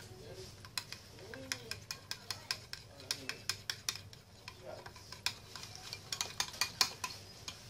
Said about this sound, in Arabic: نقوم بخلط جميع المكونات